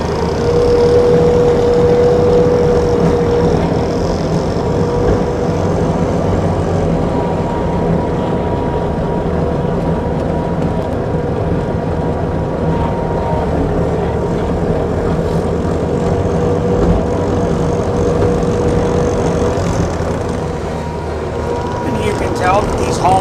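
A 2018 Bobcat T770 skid steer loader drives in two-speed, its engine a loud, continuous close drone with a faint steady whine running throughout.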